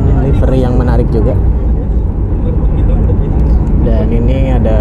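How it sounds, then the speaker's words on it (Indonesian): A steady, loud jet-engine roar fills an airport apron where Boeing 737 airliners wait, one preparing to take off, with a voice talking over the drone. "Dan ini ada pesawat lain yang sepertinya mau take off juga."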